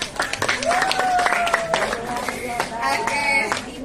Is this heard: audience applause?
yes